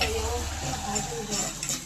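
Asafoetida and curry leaves frying in a pan with cumin, chilli and onion while being stirred, a steady close sizzle with soft scraping under a speaking voice.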